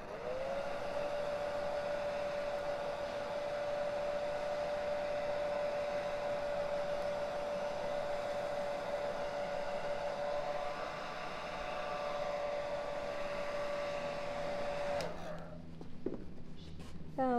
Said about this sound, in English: And this is where the hairdryer comes in.